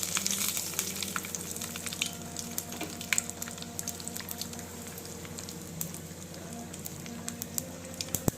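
Curry leaves frying in hot oil for a tomato chutney tempering, a faint steady crackling sizzle with scattered sharp pops, heard close but quiet, with no talking.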